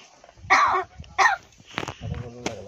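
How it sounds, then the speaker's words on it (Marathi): A pet talking crow named Kalya coughs in two short, rough bursts close by, followed by a throaty croak and softer vocal noises. "खोकला झाला तुला?"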